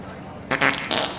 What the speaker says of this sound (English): That's that premium fart.